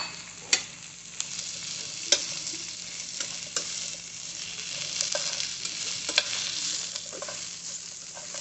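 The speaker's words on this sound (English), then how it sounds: "we're gonna add our mushrooms." Mushrooms frying in a pan give off a steady close sizzle, broken by sharp clicks and scrapes as they are stirred, with no talking.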